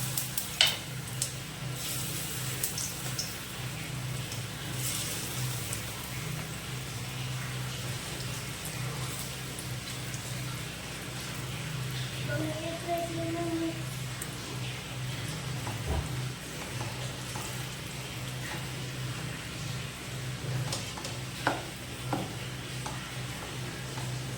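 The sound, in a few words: rava handvo batter added to sizzling mustard and cumin tempering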